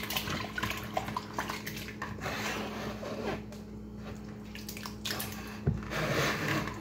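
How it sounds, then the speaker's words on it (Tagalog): Soaked sliced potatoes are washed by hand in water, giving continuous sloshing and splashing with occasional clinks of a bowl or pot, close and steady throughout, with no voices. "Hugasan ko po siya guys after 10 minutes."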